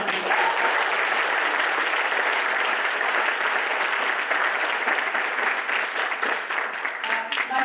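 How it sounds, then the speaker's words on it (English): Audience applause at a realtor summit fills the room with steady, dense clapping from a crowd, sustained at an even level throughout. "let's give a round of applause"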